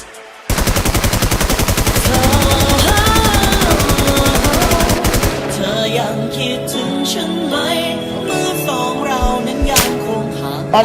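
Rapid automatic gunfire from a shooting video game rattles loudly and closely in a dense burst, then gives way to game music and scattered shots.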